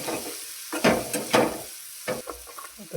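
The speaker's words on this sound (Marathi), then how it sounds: "एकदा मसाल्याचा कलर हा कडक झाला तर आपण या कढईमध्ये आपण बांबूची भाजी टाकणार आहे." Bamboo shoot curry is tossed in a kadhai of spiced masala, giving sizzling bursts and scraping stirs in uneven strokes, close and loud, with no one speaking.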